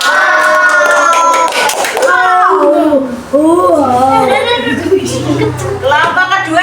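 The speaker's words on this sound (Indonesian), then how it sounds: "Ya kasih tepuk wow" Classroom group applause and clapping at a teacher training session, loud and sustained for several seconds with children's and adults' voices chattering over it.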